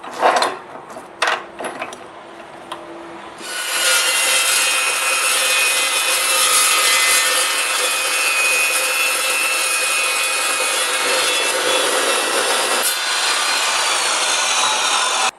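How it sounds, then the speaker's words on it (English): A carbide-blade metal chop saw cutting through steel angle iron: a few brief knocks and handling sounds, then a loud, continuous grinding whine with a bright metallic screech that holds steady for about twelve seconds, no talking. "And I'm going to cut another one in this angle iron."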